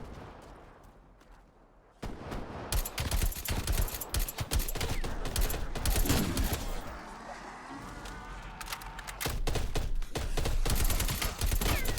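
A tactical rifle fires in Call of Duty: Cold War Zombies. Rapid, loud shots crack almost continuously after a quiet opening and layer over busy in-game action.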